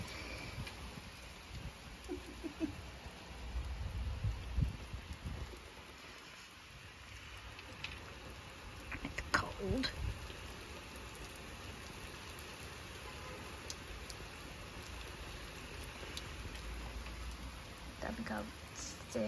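Steady rain falls outside, heard from under a shelter as a faint continuous hiss with occasional drips, low and distant throughout.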